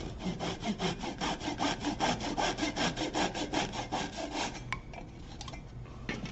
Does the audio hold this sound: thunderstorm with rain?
no